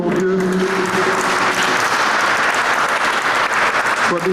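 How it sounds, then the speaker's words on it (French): A church congregation bursts into loud, sustained applause for a returning parishioner during a Sunday homily, dense clapping filling the space with a voice or two briefly audible at the start. "Paranak, lève-toi, qu'on t'applaudisse aussi"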